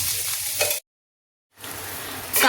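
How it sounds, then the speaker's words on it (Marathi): Onion frying in oil in a pan, a loud steady sizzle that cuts out completely for under a second, then returns just as strong and swells near the end. "हे थोडं पिंक होईपर्यंत आपण फ्राय करून घेऊ"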